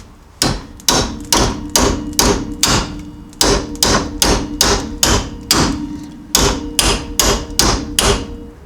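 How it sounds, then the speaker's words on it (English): A hammer strikes vice grips clamped on a Jeep XJ steering box, ringing out in quick metallic blows, a steady series of about twenty with a couple of brief pauses, loud and close. "this moved a little bit just by hammering on the vice grips and after heating it up."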